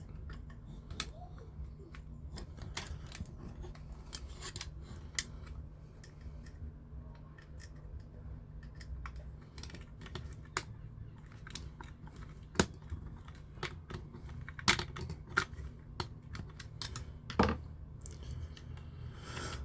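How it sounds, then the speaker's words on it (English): Screwdriver working a stiff screw into a Fanhome Iron Man Mk.3 armour model part, a steady stream of small scratchy clicks and ticks with a few sharper snaps, close up, no talking. "Let's try a different screwdriver."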